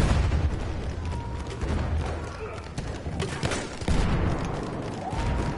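Grenade blast in the World War I shooter Battlefield 1 at Fort De Vaux, a booming thud amid continuous battlefield gunfire and rumble, with a player talking over the chaotic combat noise.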